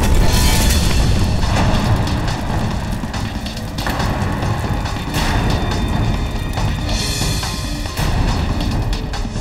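A loud, sustained rumbling blast with dense crackling debris rolls on for several seconds in front of a bungalow, a TV drama sound effect, with no talk over it.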